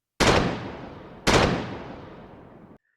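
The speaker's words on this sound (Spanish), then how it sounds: "El estruendoso sonido de los disparos sacudió la bahía de Edo." Two heavy booming cannon blasts about a second apart, each with a sharp onset and a long rumbling decay, loud and reverberant.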